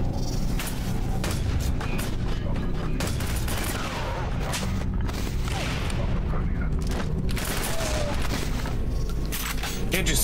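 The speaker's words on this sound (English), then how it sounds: "Stop shooting!" Dense bursts of gunfire and booming explosions in Quake 4 run continuously, loud and close, with voices shouting over the shooting.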